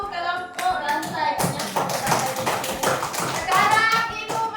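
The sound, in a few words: children clapping hands for group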